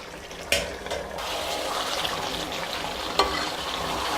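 Kerala-style chicken curry thickening in a pan, sizzling and bubbling steadily, with two sharp scraping stirs of a spoon against the pan bottom near the start and again toward the end.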